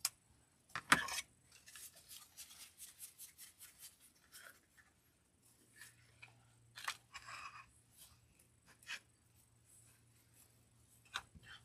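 Scissors snip through ribbon in a quiet room, a handful of short crisp cuts and faint rustling spaced irregularly, close but soft.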